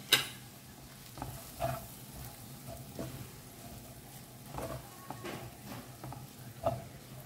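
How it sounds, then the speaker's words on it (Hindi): Noodles being stirred and tossed in a frying pan over low flame with prawns, repeated scraping and clattering of a utensil over a low sizzle, close and fairly quiet. "अब ना थोड़ा थोड़ा करके ना हमें इसमें नूडल्स डालना है। और अब इसे ना अच्छे से मिक्स करें।"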